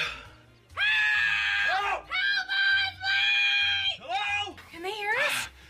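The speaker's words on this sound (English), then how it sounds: "I'm gonna scream now, okay?" Several people scream loudly at close range, trying to be heard after failing to kick a door open. The cries are long and sustained, repeated in a series of shrill bursts with brief pauses between them.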